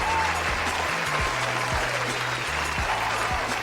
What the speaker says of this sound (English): We should have hit the applause for ourselves